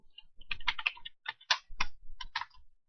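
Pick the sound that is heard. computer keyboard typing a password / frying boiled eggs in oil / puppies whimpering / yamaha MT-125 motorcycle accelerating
computer keyboard typing a password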